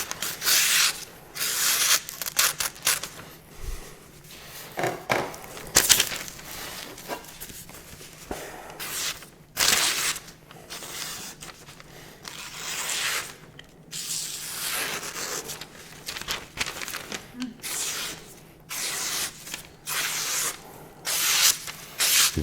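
A blade is drawn across a 400 grit whetstone in a steady run of gritty rubbing strokes, close and fairly quiet, with short pauses between passes and no talking.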